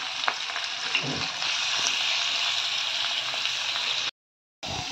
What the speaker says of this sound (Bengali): এবার চিংড়ি মাছটা ভাজা করে নেব।